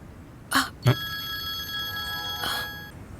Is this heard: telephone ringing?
yes